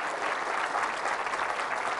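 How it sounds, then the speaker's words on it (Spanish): Steady, dense applause from a church congregation during a Catholic homily, a brief burst of many hands clapping at moderate distance. "Fuerte el aplauso a nuestra Madre, la Virgen María."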